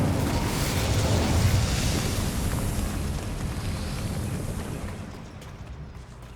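A roaring burst of flame from the Incendio fire spell in the Hogwarts Legacy video game, a loud broad whooshing blast that swells at once, holds as a dense rumble, then fades away.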